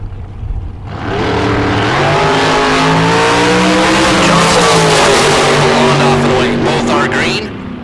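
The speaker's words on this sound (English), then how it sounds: "That yellow Yancer dragster out of Cottonwood," A yellow Yancer dragster from Cottonwood, Arizona roars down a drag strip at a bracket race, its engine note loud and steady as it passes, with an announcer talking over it.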